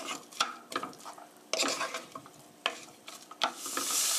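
Button mushrooms and carrot being stir-fried in a pan, with a soft sizzle broken by repeated clattering spatula stirs, near and fairly quiet.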